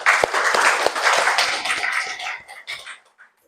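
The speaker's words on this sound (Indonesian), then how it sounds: "Tepuk tangan dulu untuk semua." Classroom applause during a peer-teaching coding lesson, a burst of overlapping claps that starts full and thins out over a few seconds, with scattered louder individual claps.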